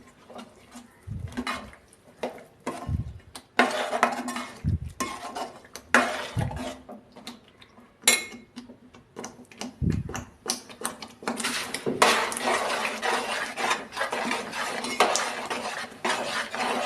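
A spoon stirs tomato chutney mixed with spice powder in a pot, giving repeated scraping strokes and light metallic clinks at a steady, uneven rhythm, close by with no talking.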